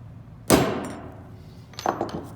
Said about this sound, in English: I just take a nail and I make a little tiny puncture